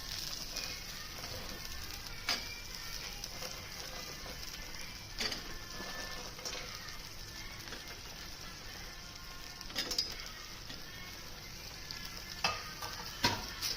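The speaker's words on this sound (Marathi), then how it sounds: "मिक्स करूया।" Paneer chilli with a spoonful of chilli sauce is stirred in a pan, giving a steady mid-level sizzle with occasional sharp scrapes and clinks of a spoon against the metal, with no talk.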